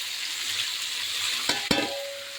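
Capsicum with chilli, pepper, turmeric, coriander and sambar powders frying in a pan, a soft steady sizzle broken by a couple of quick metallic scrapes from stirring near the end.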